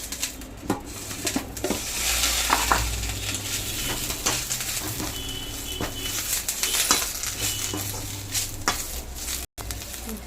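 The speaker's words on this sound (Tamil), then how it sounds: "இது நல்லா வறுபட்டு பொறுன்னு வரட்டும்" Curry leaves fry and crackle in a pan for sesame idli podi, a steady sizzle with irregular pops and some stirring scrapes throughout, and no talk.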